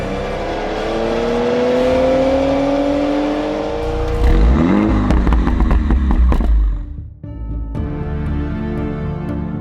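A Porsche Macan S engine revs hard and loud close by, pitch climbing steadily, then bursts of crackling throttle blips before the revs drop and settle into a steady idle.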